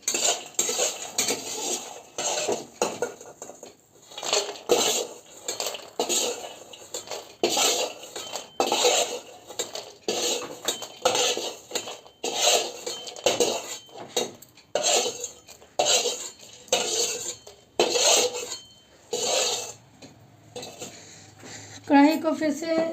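Steel dishes and utensils clink and scrape in rhythmic bursts as gond laddoos are moved onto a steel plate in a home kitchen, close and fairly loud, with occasional speech between.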